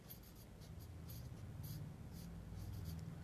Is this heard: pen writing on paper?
yes